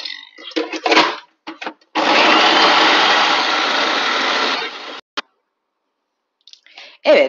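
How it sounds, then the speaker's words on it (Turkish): A food processor grinds dried cauliflower into fine crumbs, with a loud, dense whirring burst of about three seconds, framed by short clattering bursts and brief pulses before and after. "Güzelce robotumdan geçireceğim"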